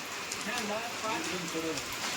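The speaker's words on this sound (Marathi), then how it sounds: "गडावर आता पाऊस येलो" Rain falling at Bhairavgad hill fort in the Sahyadri mountains, beside a temple atop the fort; a dense, steady patter fills the scene while voices murmur underneath.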